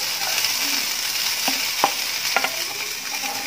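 Tomatoes hit a hot frying pan with onions already sautéing, giving a steady bright sizzle throughout, broken by a few sharp spatter pops and stirring scrapes.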